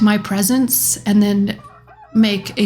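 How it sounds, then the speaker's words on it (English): Rooster crow triggered in a Minecraft world, loud and close, repeated several times in quick succession with a voice speaking briefly between the crows. "there's a rooster crowing"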